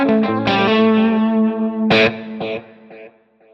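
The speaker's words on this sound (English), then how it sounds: "I get a really beautiful delay that's going to complement my tone" An electric guitar through a modeler plays a few distorted notes and a chord, each trailing off in repeating delay echoes that fade as the phrase ends, loud and alone.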